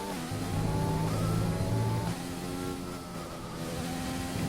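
A racing video game car engine at the Belgian Grand Prix drones steadily at high revs with a whining tone, then the pitch drops as the throttle lifts, close and continuous with no talk.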